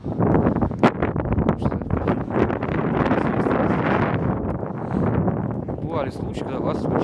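Strong wind blowing outdoors, buffeting the microphone with loud, gusty rumbles and rustling throughout, while a person talks over it.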